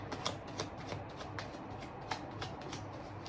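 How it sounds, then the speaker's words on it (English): A tiny deck of tarot cards is shuffled by hand up close, producing quiet, rapid riffling and crisp snapping taps in short bursts, with no talking. "I just love shuffling the deck, and it's so tiny."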